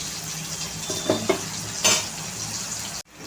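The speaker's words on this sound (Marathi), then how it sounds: "टोमॅटो छान गळेपर्यंत आपल्याला फ्राय करून घ्यायचे आहेत" Tomatoes fry in a pan for a potato curry, a soft, steady sizzle broken by a couple of light spoon clinks and one brief scrape before it cuts off abruptly.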